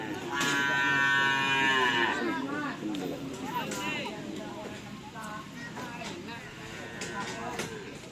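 Bulls gather for karapan sapi race training at a field in Asemanis, Pamekasan, with moos and lowing mixed into a busy outdoor crowd where people talk and shout throughout.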